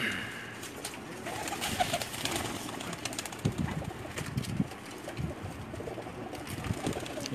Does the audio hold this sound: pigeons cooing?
yes